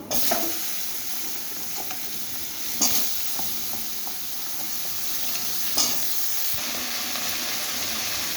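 Vegetables hitting hot oil tempered with dried red chilies and bay leaf for a poi shak dish, a continuous sizzle and hiss with a few sharp stirring clatters.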